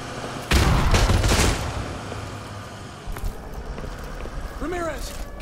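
Machine gun fire in Call of Duty: Modern Warfare 2, a loud dense burst in the first second or so, then thinner scattered shots under ongoing battle noise, with a voice talking near the end.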